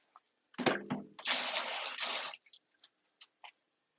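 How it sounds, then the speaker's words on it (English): A wooden spoon is rinsed under running water at a sink. A short splash comes first, then a strong gush lasting about a second, followed by a few faint drips and clatters. "I'm going to do a thorough rinsing on this wooden spoon."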